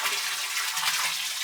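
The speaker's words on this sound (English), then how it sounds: "let me put some more water in the barrel" A garden hose runs water into a barrel outdoors, giving a steady, close hiss and splash of flowing water with no talk.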